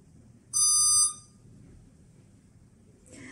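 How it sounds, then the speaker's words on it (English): A single loud, high electronic beep lasts about half a second from the motor controller of an RC SU-27 model, followed by faint hum and quiet background noise. "Until you hear the second long beep from the motor."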